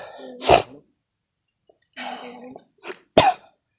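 Several sharp coughs from a person, one around half a second in, a softer cluster a moment later and another hard burst near the end, heard close with quiet gaps in between.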